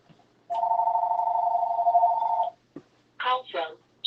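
A mobile phone rings nearby in one long sustained electronic tone lasting about two seconds, followed by a short burst of speech.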